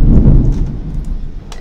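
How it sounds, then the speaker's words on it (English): A loud, sustained rumble of thunder in a horror video game, with rain-like rustling layered over the deep roll, which slowly fades. "Get ready for a big bolt of thunder, guys."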